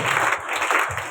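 Worship service congregation clapping hands, a steady dense patter of many claps with a faint rhythmic pulse and no talking.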